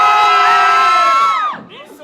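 A small crowd of about ten fans at the Lyon Geek Show convention in France lets out a loud, close burst of cheering and whooping that drops off sharply, followed by a brief fainter shout.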